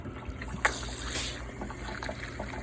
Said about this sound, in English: We got ourselves some water flow